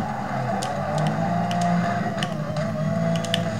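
Cars approaching on a night road in a Need for Speed racing game, a steady engine drone with faint ticking clicks over it, continuous throughout.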